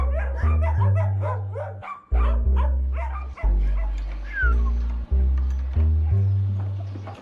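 Dogs brought by locals to a vaccination drive in Soweto bark loudly and repeatedly, deep woofs in close, regular bursts roughly every second with a few yips and whimpers mixed in, no talking.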